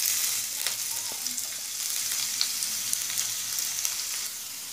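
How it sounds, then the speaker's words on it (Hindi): Finely chopped garlic and ginger frying in hot oil for an egg roll filling, giving a steady, close hiss of sizzling with a few faint stirring clicks and no talk. "ऑयल गर्म हो चुका है, तो हम सबसे पहले लहसुन अदरक को डालेंगे बारीक कटे हुए।"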